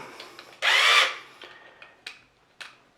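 A cordless screwdriver drives a screw for a wall plug in solid masonry, giving one loud whirring burst of about half a second, then a few faint clicks and taps, close up with no speech.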